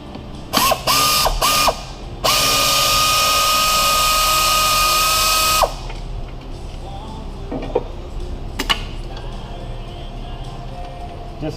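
A ratchet on an extension works a bolt on a 2011 Ford 4.0 V6 engine during a thermostat housing job, giving brisk bursts of loud, close clicking followed by a long unbroken run of ratcheting, then quieter handling noise.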